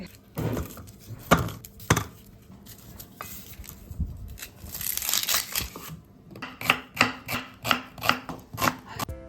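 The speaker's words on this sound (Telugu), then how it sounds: "ఫ్రైడ్ ఆనియన్స్కి నేను ఆనియన్స్ అన్నీ కూడా కట్ చేసుకుంటున్నాను" A knife chops onions for frying on a cutting board in a home kitchen, with irregular cuts at first and then a steady run of crisp, close strokes toward the end.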